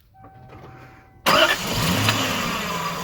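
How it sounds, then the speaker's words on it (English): A V8 car engine cranks and catches with a sudden loud roar, then settles into a steady, throaty idle close by. "You can go ahead and start up the car."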